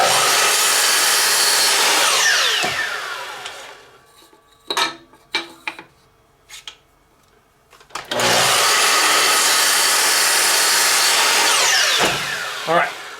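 Saw with a carbide-tipped blade cutting wood, a loud, close whine running through two long cuts separated by a quieter pause of scattered clunks and handling noise.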